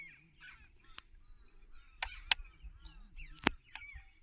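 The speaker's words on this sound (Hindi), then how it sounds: "ऊपर देखिए कौवे यहाँ पे काफी है" Several crows caw in short bursts in a wooded jungle area, their harsh calls layered with other birds and low rustling, fairly close and loud at times.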